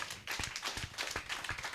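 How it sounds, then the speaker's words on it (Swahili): A church congregation claps together, a fairly soft series of rhythmic hand claps at an even beat, with no talking. "Pigia Bwana makofi."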